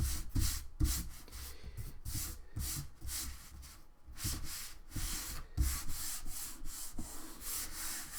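Steady hand rubbing over glued material, a rhythmic, close scrubbing sound with repeated strokes of roughly even pace, sanding-like and continuous, with no voices.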